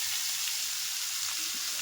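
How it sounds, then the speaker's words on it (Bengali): Vegetables fry in a hot pan with a constant, close hiss of sizzling oil, steady and fairly loud with no voices over it. "তো এবার সবজিটা ঢেলে দিলাম।"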